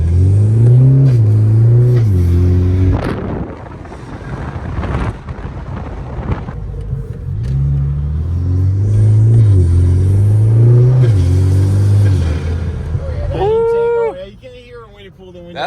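BMW 335i with the N54 engine, fitted with an aftermarket air intake, revving hard on launch: several loud rising and falling engine sweeps up close, a brief pause, then another burst of revs.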